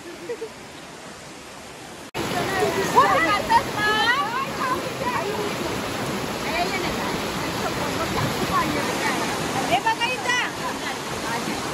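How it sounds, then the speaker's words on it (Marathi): Water flows at a farmhouse with a loud, continuous rushing roar that starts suddenly after a quieter opening, while voices talk over it. "पाण्याचा आवाज रेकॉर्ड होतो"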